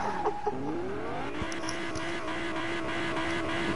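A car engine revving in a video game, a steady rising drone with a strained, whining tone, held fairly quietly in the background.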